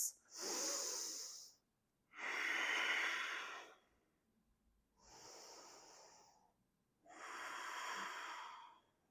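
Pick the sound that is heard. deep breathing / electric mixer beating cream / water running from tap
deep breathing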